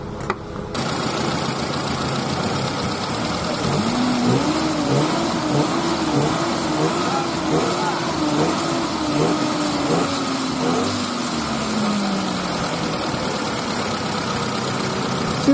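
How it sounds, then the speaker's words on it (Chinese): A car engine starts and settles into a steady idle, with a rising and falling tonal whine as a generator is fitted on a car with a two-year-old battery; the running engine stays continuous and fairly loud throughout. "现在我们再启动一下车子"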